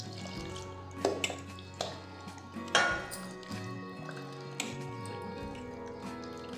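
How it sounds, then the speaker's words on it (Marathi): Butter washed by hand in a pot of cool water from an earthen pot, with soft drips, splashes and squishes over several seconds and a few light clinks of the vessel, heard close and quiet. "मी इथे भांड्यात माठातलं पाणी घेतलं आहे. त्याचा टाकून घेते लोणी धुवायला"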